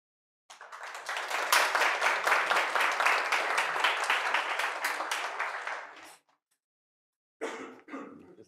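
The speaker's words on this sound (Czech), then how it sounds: "Ďakujem, že ste pána profesora privítali potleskom." A lecture audience welcomes a professor with warm applause, a dense, close wash of clapping lasting about six seconds that tapers off into silence, followed by a brief cough or throat clearing.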